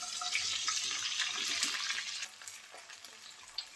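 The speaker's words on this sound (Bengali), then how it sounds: "পানি দিয়ে দেব," Water is poured into a hot pan of fried onions, a loud, steady rushing hiss with sizzling that thins out toward the end, with no voices.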